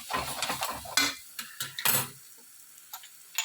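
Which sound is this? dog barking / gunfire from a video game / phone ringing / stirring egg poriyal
stirring egg poriyal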